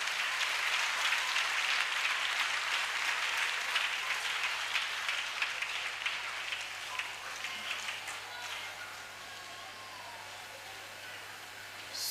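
A congregation at a national church convention in Togo applauds and cheers in a dense, sustained wash of clapping that stays loud, then eases slightly toward the end.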